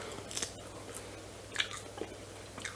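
Crunchy dehydrated strawberry chia fruit leather being bitten and chewed, a few faint scattered crunches close to the microphone over a low steady background hum.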